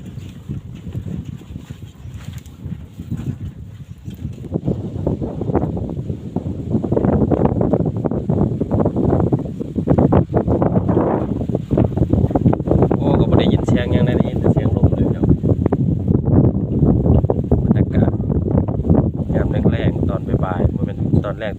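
Strong cool wind buffets the microphone outdoors, a continuous loud rumbling roar that runs under someone talking throughout.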